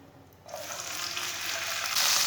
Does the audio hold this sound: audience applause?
no